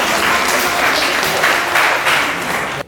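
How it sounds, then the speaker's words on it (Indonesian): A classroom group applauds a student named Sheila, steady dense clapping from many hands filling the whole moment, close and loud, fading slightly at the very end. "Ya, tepuk tangan untuk Sheila."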